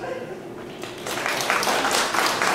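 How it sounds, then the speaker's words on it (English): Audience applause at a comedy show in a theater, clapping that builds from a light patter into a fuller burst of hands mixed with crowd noise. "Round of applause if your kids ever played sports."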